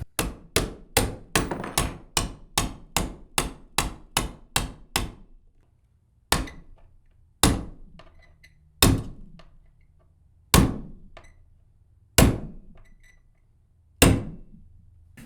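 A pivot pin is hammered back into a Minn Kota Ultrex trolling motor foot pedal with a fast run of about a dozen sharp metallic strikes. Several slower, evenly spaced blows follow, each ringing out briefly, loud and close.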